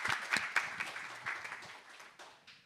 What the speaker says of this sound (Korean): I would like to ask a round of applause for him.